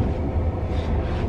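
Inside a moving passenger train in North West England, a steady loud low rumble with rolling noise fills the short stretch with no voices.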